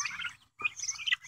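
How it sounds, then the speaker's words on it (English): Young chickens and turkeys chirp near a gravity-fed poultry waterer, high bright peeps in two busy clusters separated by a short pause, close and moderately loud, with no talking. "you can see we've got a few birds here that are curious."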